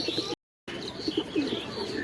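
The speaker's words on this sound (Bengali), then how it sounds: "এই যে এখানে আমরা আমাদের দেখেন দুই পেয়ার কবুতর বাহিরে ছাড়ছি।" A pair of pigeons on a rooftop give soft coos and chirpy calls, close by, with a brief dropout of silence early on.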